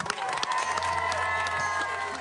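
A studio audience on a French television game show breaks into applause and cheering, a steady crowd wash of clapping with a low hum underneath, held at an even level throughout.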